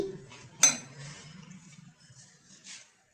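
A spoon clinks against a dish while spreading chicken qeema kachori filling onto a roti, one sharp metallic chink followed by faint scraping and soft handling sounds, quiet and close.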